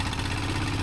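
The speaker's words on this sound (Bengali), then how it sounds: "আমাদের ট্রলার স্টার্ট দেওয়া হয়ে গেছে, শব্দ শুনতে পাচ্ছেন আপনারা।" A fishing trawler's engine runs steadily on the Padma river, a loud, continuous low idling drone with a constant rhythmic throb and no break.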